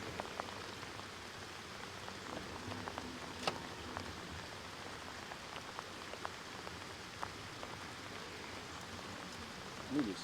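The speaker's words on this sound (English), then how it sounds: "bring your rain gear, John, because it's still raining" Steady rain falling and pattering on surfaces outdoors, a soft, continuous hiss dotted with sharper individual drop ticks, fairly quiet throughout with no talk.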